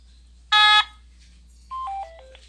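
A telephone line signals a call ending: one loud harsh buzzing tone, then after a pause a quieter descending run of four short beeps.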